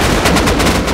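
Rapid automatic gunfire from the survival game Rust, a short loud burst of evenly spaced shots fired close up in quick succession.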